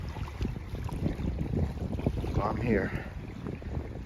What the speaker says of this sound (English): It's very cold out here. The wind is blowing as well.